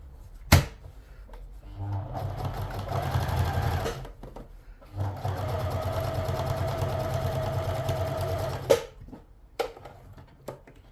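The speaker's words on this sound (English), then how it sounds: "And stitch all the way along." A sewing machine stitching the seam of a cloche hat runs in two sustained bursts of rapid, even whirring, separated by a pause, with a few sharp clicks and knocks around them.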